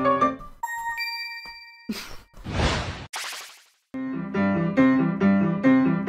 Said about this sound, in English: Squat kick, that's the only one that sounds like that.